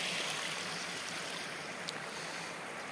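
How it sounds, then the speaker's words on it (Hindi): Small river flowing at a little village dam at early morning, a steady broadband wash of rushing water, moderately loud and unbroken, with no voices over it. "ये है हम लोग का छोटा सा बांध, नदी"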